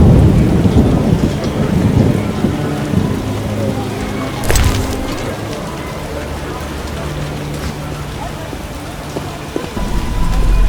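Heavy rain pours down in The Witcher video game, a dense, constant rush of falling water. A loud thunder crack breaks through partway, and low rumbling rolls under the downpour, with no one speaking.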